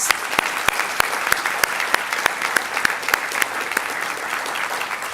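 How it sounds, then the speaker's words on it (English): A conference keynote audience applauds steadily, many hands clapping together with a few sharp individual claps standing out, sustained throughout. "join me in a round of applause for all our speakers."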